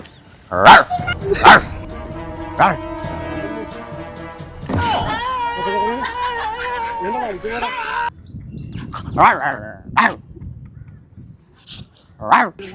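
A dog barks in several sharp bursts spread out over time, mixed in with people talking and other background activity.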